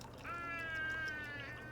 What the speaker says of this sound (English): I'm just gonna pour it in.